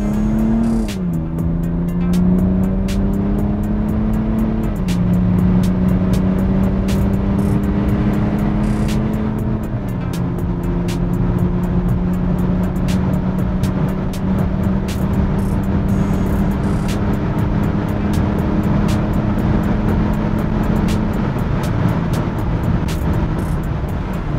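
A BMW 330d diesel car accelerates hard on the autobahn, its engine drone rising steadily through the gears with brief dips at each shift, heard from inside over constant road and wind noise.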